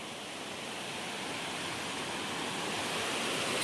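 Water rushes over a dam spillway as a dense, continuous roar of broad hiss that holds steady and swells slightly near the end.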